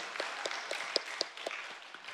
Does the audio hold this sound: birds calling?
no